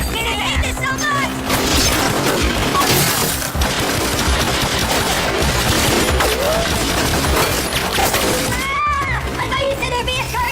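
Loud, dense gunfire and crashing debris from a TV action scene, continuous and chaotic, with people shouting over the noise throughout.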